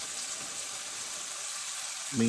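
Deer backstrap fries in a skillet: a steady, close hiss of sizzling fat fills the whole stretch without pause, rising slightly at the very end.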